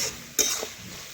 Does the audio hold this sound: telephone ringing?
no